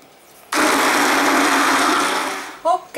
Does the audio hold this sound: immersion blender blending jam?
yes